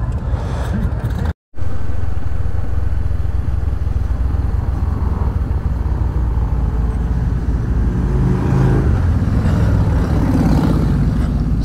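Motorcycles riding during the Bikes Blues & BBQ rally on a Sunday morning ride through Eureka Springs, Arkansas, with a steady, loud engine drone and rumble throughout, briefly cut out near the start, then swelling slightly toward the end.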